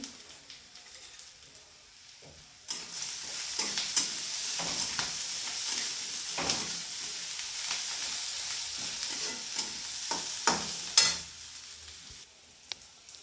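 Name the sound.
onion frying and stirring with turmeric, salt and peanuts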